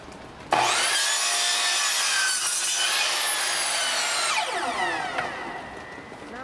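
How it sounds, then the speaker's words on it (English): A circular saw cuts 45-degree angles in wood, a loud close whine that starts abruptly, holds a high sustained rasp as the blade bites, then winds down. No talking. "he's going to cut some 45 angles with the circular cutter"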